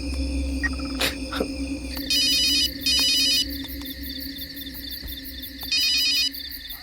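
A telephone ringtone sounds in three short electronic bursts with gaps between, loud and close over a quiet room with a low hum and a few small knocks.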